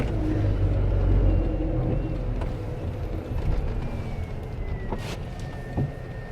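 A car engine pulls uphill in gear on the sloping road at Wadi e Jinn near Medina, Saudi Arabia: a steady, close engine drone with low rumble and slight fluctuations, plus a few faint clicks.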